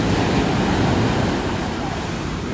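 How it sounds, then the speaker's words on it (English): Heavy ocean surf breaking continuously below a flying DJI Mini 2 drone, a dense roaring wash of waves with steady wind noise buffeting the microphone throughout, easing only slightly toward the end. "We've got some serious waves coming out here"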